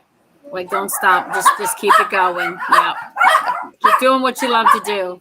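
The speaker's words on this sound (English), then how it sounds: "Sorry about the dogs." Dogs bark in the background while people keep talking over them throughout.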